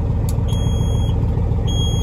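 A steady high-pitched electronic beeping tone from a farm vehicle's low-beam headlight warning sounds in pulses over a loud, constant engine rumble.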